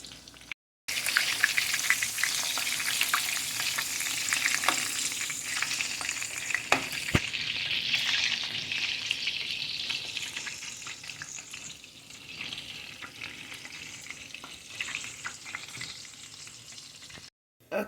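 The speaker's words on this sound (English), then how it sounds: "So as you fry them, set them aside." Meatballs fry in a pan with a dense, close crackling sizzle that holds fairly steady, dotted with sharp pops and spatters and easing slightly toward the end, with no talking.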